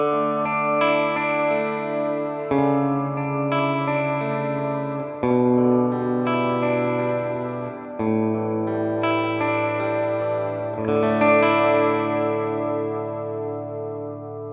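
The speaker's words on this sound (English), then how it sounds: "let's add some more reverb just to show you a bit more of what it can do" Electric guitar chords ring out through an EarthQuaker Devices Disaster Transport SR delay pedal with its reverb turned up, each strum sustaining into a washy, lingering tail, played alone with no talking.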